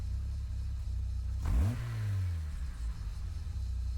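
Ford GT40 Mark 1 race car engine in Gran Turismo Sport revving hard in one sharp rising burst, then falling and settling back into a steady low drone.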